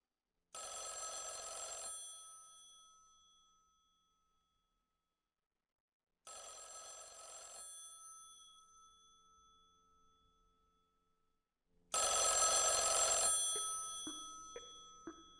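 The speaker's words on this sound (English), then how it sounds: "You pick up the phone." A telephone bell rings in three separate loud bursts, each trailing off into silence, the last cut short as the receiver is picked up, with no voices over it.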